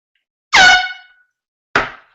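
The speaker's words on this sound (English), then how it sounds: "I use the air horn." Two loud, blaring air horn blasts, the first longer and the second cut short, ringing out alone against silence.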